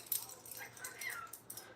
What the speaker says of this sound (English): Hey, my dog's here.